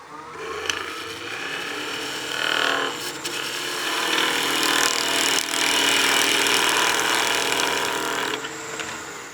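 A skew chisel taking a long-point-down planing cut on spinning wood on a lathe, a loud continuous rasping hiss with a fluttering edge, steady for several seconds before easing off at the end.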